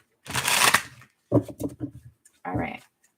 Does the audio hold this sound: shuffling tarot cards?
yes